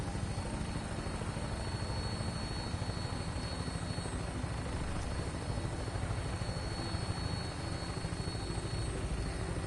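Helicopter cruising high over the Commonwealth in Fallout 4, a steady, continuous rotor and engine drone at even loudness with no breaks and no talking.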